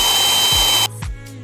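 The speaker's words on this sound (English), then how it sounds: "now I'm going to smash out the 18 holes" A power drill bores holes through a board in a garage, a loud steady whine that cuts off abruptly and then gives a brief second burst, with low thumps as the bit stops.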